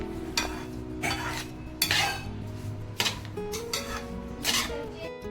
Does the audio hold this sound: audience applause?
no